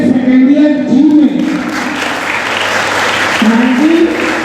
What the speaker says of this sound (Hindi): ये जोरदार ताली अपने इस भाई को